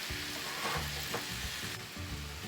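Hamburger meat browning in a pan over medium heat, a steady close crackling sizzle with a low pulsing bubble underneath, continuous throughout.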